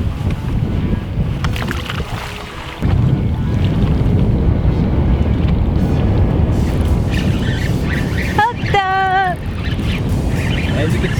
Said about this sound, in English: Super windy day.